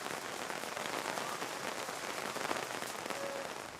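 Hail falls on a beach, a dense, steady patter of hard pellets striking the surface, close and continuous with no voices.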